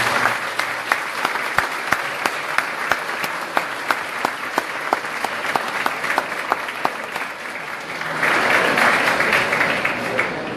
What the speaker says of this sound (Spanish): pido que me le den un fuerte aplauso